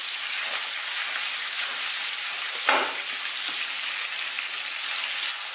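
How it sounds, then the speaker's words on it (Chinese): Carrots stir-fried in plenty of lard in a wok give a loud, dense, continuous sizzle with the rushing hiss of tossing. One brief sharper burst comes partway through, and no one speaks. "像这样给它翻炒个十多二十秒，炒出胡萝卜油。"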